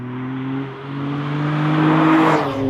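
A 273-horsepower Adamastor P003RL sports car revving on the Braga circuit, its engine note climbing steadily and loud, a rising whine over a strong tonal drone, near and alone.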